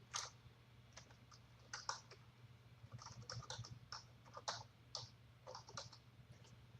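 Someone types on a computer keyboard in soft, uneven bursts of clicking key presses under a low steady hum. Nobody talks.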